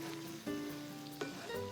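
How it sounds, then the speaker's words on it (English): Dry white Pinot Grigio hitting a hot pan to deglaze it while making chicken cacciatore, giving a steady close sizzle and hiss for under two seconds with no talking. "Then we're going to add a 1/4 cup of white wine to deglaze the pan."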